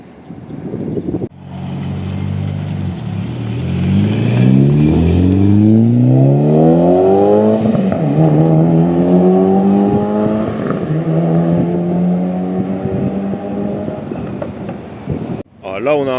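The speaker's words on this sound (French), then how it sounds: "Alors là on a un duo de 400Z de la même couleur." Two matching Nissan 400Z sports cars accelerate on a street in Osaka, engines climbing loudly through rising revs and gear changes, close and sustained, with some wind rumble on the microphone.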